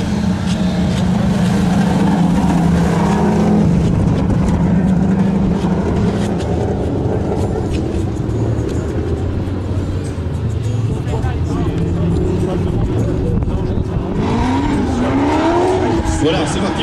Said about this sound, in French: Et retour en piste de Juan Van Driel avec la BMW M5 et de Yves Farber, la voiture du Wengler Racing, la Ford Mustang